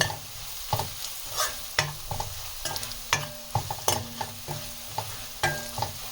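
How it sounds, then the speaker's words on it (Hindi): Soya keema with onion and red chilli, turmeric and salt fries in a pan, soft sizzling beneath regular knocking scrapes of a spatula stirring, close and fairly quiet. "और अब इन मसालों को हम अच्छे से इसमें पकाएंगे।"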